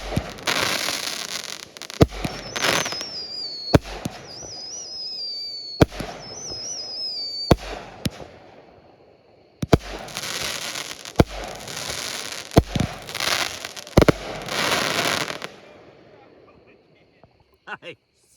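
Crackling firework cake shots, 200-gram consumer cakes, go off in repeated bursts of sizzling crackle with sharp booms and whistling rises, loud and close, with excited voices cheering in between.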